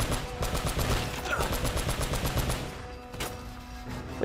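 Gunfire in Uncharted: Drake's Fortune, rapid repeated shots rattling steadily for several seconds, loud and close, with a brief lull near the end before firing resumes.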